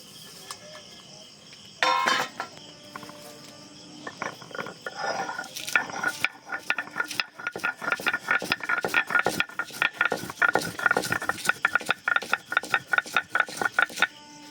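Garlic being ground by hand for Bangladeshi garlic bharta (rosun vorta), giving a close, busy run of dry scraping, crushing and rattling strokes that grow denser and more rhythmic as the grinding goes on, with no talk.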